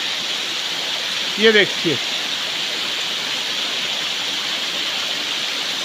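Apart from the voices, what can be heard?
spring water flowing down from above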